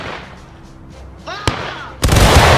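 Company volley of Civil War rifle fire in War of Rights, a single loud crashing massed discharge after a quieter buildup with a shouted command and a sharp crack.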